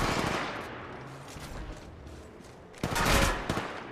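Automatic gunfire in Apex Legends Mobile: a steady rattle of rapid shots that thins through the middle, then swells into a louder, denser burst near the end. Close and prominent, with no voices.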